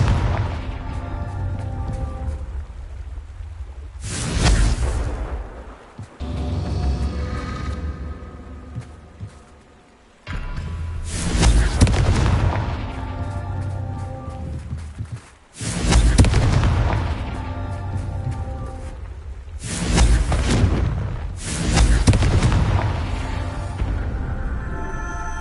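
Several heavy booming blasts from the Confringo spell in Hogwarts Legacy, loud explosive bursts spaced a few seconds apart, each one trailing off into a rumbling decay.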